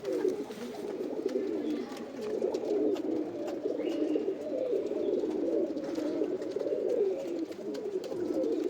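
Pigeons kept for sale cooing continuously, a low throaty warbling that runs without pause and overlaps from more than one bird, close and moderately loud.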